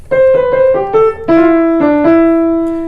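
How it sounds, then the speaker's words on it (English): An organ plays a short repeating melodic line from the verses of a song, sustained tones stepping through a few notes with a steady rhythm, loud and alone. "There's one more melodic motive that keeps happening every verse in the organ part that sounds like this"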